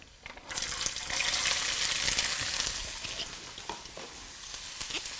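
Carrots, green beans and cauliflower florets hit hot oil in a pan for an Indian dish, setting off a loud, steady sizzle that swells quickly and holds, with a few scraping stirs.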